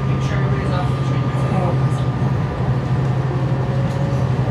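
Inside a train stopped at the last station, a steady low rumble of onboard ventilation and machinery fills the car, with faint clicks and a thin tonal hum running throughout.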